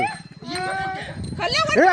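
A pet dog barks amid agitated human shouting nearby during a fight with a cobra, the voices and barks overlapping in a loud, tense burst.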